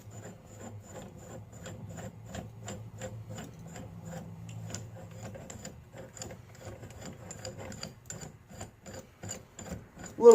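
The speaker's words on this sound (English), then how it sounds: "finishing unthreading these bolts from the spring" Bolts being unthreaded from a strut spring compressor, a close series of quick metallic ratcheting clicks and scraping turns in a steady rhythm, with a humming tone underneath early on.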